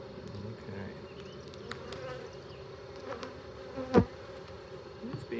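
A busy swarm of alarmed honey bees drones continuously up close during a hive inspection, with occasional individual bees zipping past and a brief thump partway through.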